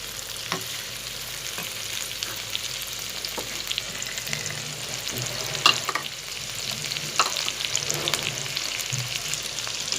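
Tomatoes and green chillies sizzle in a pan for a masala dish while being stirred, a steady frying hiss broken by scattered scrapes and clicks of the spoon.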